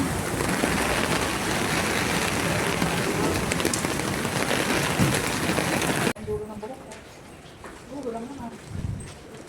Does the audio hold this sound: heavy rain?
yes